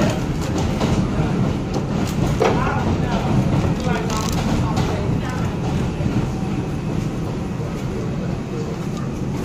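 An R142 subway car on the New York 2 train line running along the track, a loud, continuous rumble with rhythmic wheel clatter and rattling throughout, with a voice faintly audible over it.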